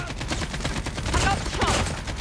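Rapid gunfire in a Call of Duty multiplayer match crackles in quick overlapping bursts, fairly loud and continuous, with some game voices mixed under the shooting.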